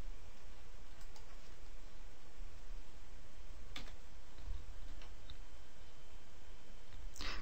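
A computer mouse gives a few faint, sparse clicks spread over a quiet hiss of room noise, with no speech.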